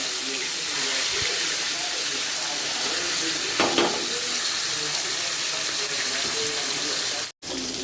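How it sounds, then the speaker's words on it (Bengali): Fish, flipped over in a pan, fries with a steady hissing sizzle that runs continuously throughout, loud and close, with a brief clatter midway and a short break near the end. "এদিক থেকে মাছ ভাজাটাও হয়ে যাচ্ছে"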